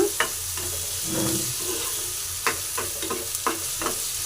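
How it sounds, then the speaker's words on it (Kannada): Tomato, onion and green chili frying in a pan for egg bhurji give a continuous sizzle, broken by repeated scraping stirs and light taps of a spatula against the pan. "ಟೊಮೆಟೊ ಮತ್ತು ಈರುಳ್ಳಿ ಮತ್ತು ಮೆಣಸಿಕಾಯಿ ನೋಡಿ ಈ ಥರ ಚೆನ್ನಾಗಿ ಫ್ರೈ ಆಗಬೇಕು"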